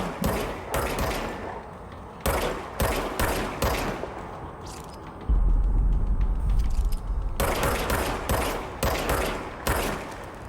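Service weapon gunfire from the video game Control cracks out in rapid bursts of sharp shots, with a short pause filled by a low rumbling impact before the quick firing resumes, loud and close.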